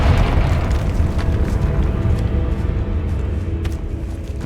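A Confringo spell explodes in Hogwarts Legacy, producing a loud, sustained, rumbling boom that fills the whole stretch with dense low-end roar and no clear pauses.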